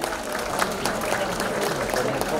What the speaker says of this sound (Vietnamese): Xin một tràng pháo tay để cảm ơn tất cả.